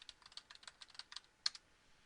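Rapid keystrokes on a computer keyboard while entering text in drafting software, a quick irregular patter of light clicks with one sharper tap near the end, close and fairly quiet with no voices.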